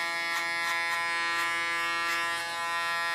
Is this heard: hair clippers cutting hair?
yes